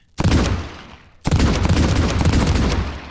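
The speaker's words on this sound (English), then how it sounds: "I'm going to try Iron Fury on our revolver instead" Revolver in the video game Cultic firing with the Iron Fury upgrade: two loud bursts of rapid gunfire, the first short, the second a sustained stream of quick shots after a brief gap.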